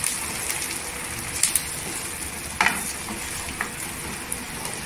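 Blended tomato, four to five tomatoes' worth, sautéing in oil for egg curry: a bright, steady sizzle up close, broken by a few clinks and scrapes of stirring.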